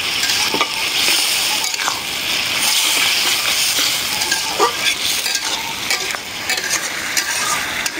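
Spicy dried loitta fish frying with spices, a loud steady sizzle broken by scraping stirs and light clinks of a utensil against the pan.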